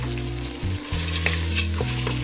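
Mixed vegetables fry and are stirred in masala in a pan, with a loud close sizzle under steady low hum and intermittent scraping stir strokes.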